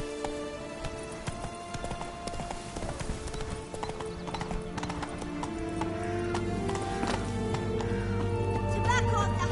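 Horse hooves clip-clopping at a steady gallop in The Witcher 3, rhythmic and close, with a snort or whinny and game music and ambience underneath.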